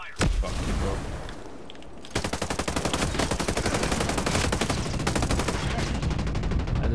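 Gunfire in the tactical shooter Ghost Recon Breakpoint during a PvP match: one loud blast, then rapid sustained automatic fire that keeps rattling for several seconds, loud and close.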